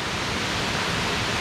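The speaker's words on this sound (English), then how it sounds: "So it's making a little waterfall." A small waterfall spills down from a tree-debris dam at Quaker Falls Recreation Area in Edinburg, Pennsylvania, a close, constant broadband rush of falling water with no pauses.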